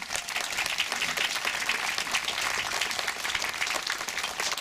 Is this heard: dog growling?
no